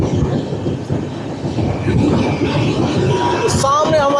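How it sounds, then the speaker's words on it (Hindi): Rumbling train noise with clattering wheels on rails, heard from aboard a first AC coach of the Uttar Sampark Kranti as it heads toward a tunnel, loud and steady with a brief high squeal near the end and people talking. "तो सामने हमारी ट्रेन जा रही है टनल के अंदर बिल्कुल सी शेप में"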